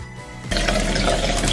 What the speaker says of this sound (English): First, wet your hands.